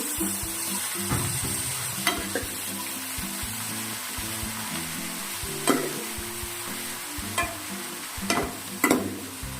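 About seven or eight onions sizzle steadily in oil in a pan for beef varattiyathu, with a spoon scraping and stirring in scattered bursts and no talk.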